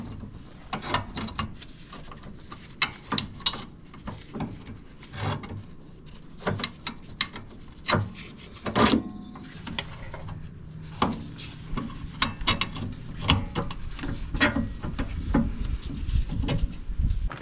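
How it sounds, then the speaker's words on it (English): A pry bar clanks and knocks while rear sway bar links are worked loose on a Mazda 3, giving scattered sharp metallic clicks and thuds over low rumble. "You will need the help of a pry bar to disconnect the links."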